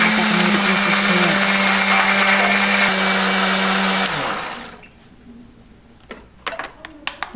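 A loud blender grinds a spice paste of garlic, ginger, turmeric, coriander, chilies and candlenuts, whirring steadily for about four seconds, winding down to a stop, followed by a few light clicks and taps.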